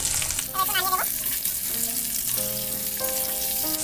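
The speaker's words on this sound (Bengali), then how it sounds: "আলুটাকে আমি ভাজা হতে দেব।" Small new-season potatoes fry in a pan with turmeric and salt for aloo dum, producing a constant close sizzle broken by brief tonal clinks and scrapes.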